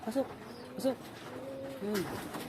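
Soft pigeon coos repeat several times, close by and fairly quiet, with faint background noise between them.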